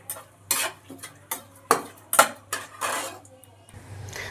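Whole cumin, black cumin, bay leaves and a dried red chili stirred in hot oil in a pot, a spoon scraping and clinking against metal in repeated strokes, close and distinct with no talking.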